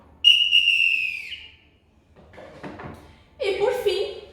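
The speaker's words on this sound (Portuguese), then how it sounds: "Aqui também eu tenho um apito de carnaval." A carnival whistle is blown once, a loud shrill tone lasting about a second, followed by clattering handling noises and a voice speaking.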